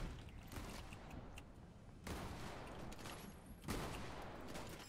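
Shotgun blasts in the video game Fortnite, a few loud broadband bangs, with the clearest ones about a second and a half apart, over a steady noisy game background.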